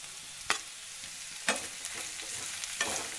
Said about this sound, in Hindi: ये 2 मिनट सॉटे होने के बाद अब हम इसमें स्प्रिंग अनियन को डालेंगे, हाफ डालेंगे, हाफ लास्ट में डालेंगे